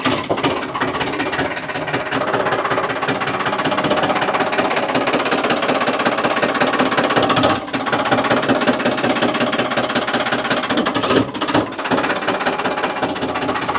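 A tractor rolls over an HDPE water pipe lying on the ground, its engine running loud and close with a steady rumbling, knocking drone that continues throughout with only brief dips.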